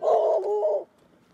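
A single short bark from a dog, loud and close, lasting under a second before falling to near silence.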